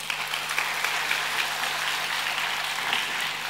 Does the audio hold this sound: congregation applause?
yes